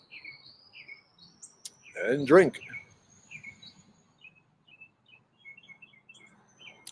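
A pet bird gives repeated short, high chirps and tweets at an irregular pace, fairly close. A person briefly speaks over them partway through.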